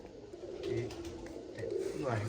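Soft, low pigeon coos repeat in a slow rhythm at a village fair, with voices murmuring in the background.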